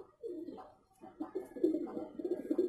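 A pigeon coos repeatedly in low, burbling phrases with a brief pause before the calls pick up again, close and moderately quiet, alone without speech.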